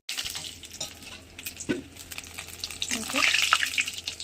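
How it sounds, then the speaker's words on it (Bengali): Lentil fritters (bora) frying in hot oil give a steady, close crackling sizzle with soft stirring, growing denser and louder toward the end; no one speaks. "এই যে বড়া ভাজা হয়ে গেছে"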